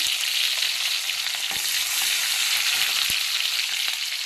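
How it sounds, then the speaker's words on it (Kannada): Green chillies and curry leaves frying in hot oil with cumin and mustard seeds, giving a loud, dense, continuous sizzle and crackle up close, with a few sharp spatters and no talking. "ಫಸ್ಟ್ ಮೆಣಸಿನ್ಕಾಯಿ ಮತ್ತು ಕರಿಬೇವು ಹಾಕೋಬೇಕು."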